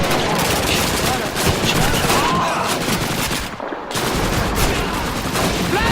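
Dense, loud gunfire from Call of Duty 2 in the Russian campaign's training and demolition missions, with rapid overlapping shots and bursts sustained throughout and barely a pause.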